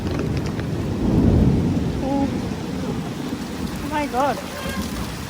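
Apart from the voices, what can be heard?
heavy rain with thunder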